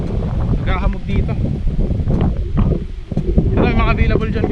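Strong night wind blows outdoors in Tagaytay, buffeting the microphone in gusty rumbles while someone talks over it almost continuously.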